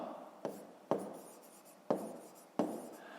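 Someone writes the answer to a fifth-grade math exercise, with pen or pencil scratching across paper in short strokes and several sharp taps, close and quiet with no talk.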